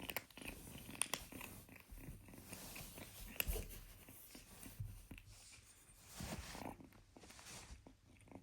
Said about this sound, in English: Beautiful kitten.